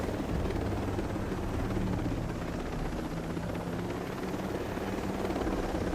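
A helicopter in the video game Ghost Recon Breakpoint drones through a long flight, its rotor and engine producing a dense, steady roar that fills the scene throughout.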